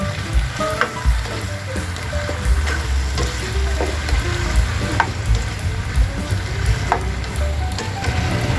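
Squash and eggplant frying in a pan for a meatless pinakbet, with a steady close sizzle and crackle and occasional clacks and scrapes of stirring.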